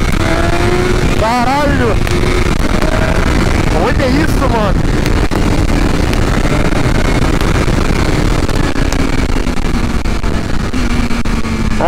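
BMW S1000RR M-package superbike accelerating hard around Interlagos, a loud, wind-buffeted engine roar rising through quick-shifted gears with sharp pitch sweeps, heard on-board, with a rider's excited voice over it.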